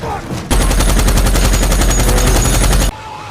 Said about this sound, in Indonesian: Baku tembak pun dimulai.